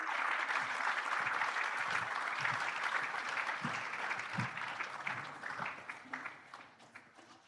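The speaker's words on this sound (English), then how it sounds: "Thank you very much for your applause" Conference audience at an investment conference in Limpopo applauding steadily, a dense wash of many hands clapping that gradually thins and fades toward the end, with a few stray claps remaining.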